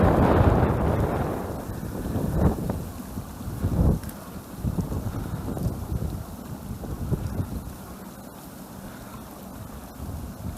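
Strong wind buffets the microphone beside a spring pond during spinning for pike, a loud broadband roar with gusty swells, strongest at the start and easing to a steadier rush.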